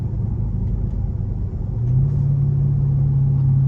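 Chrysler 300C SRT8 with the 6.1 Hemi V8 revving up, a deep heavy intake rumble that swells and rises in pitch partway through, close and loud, with no talking.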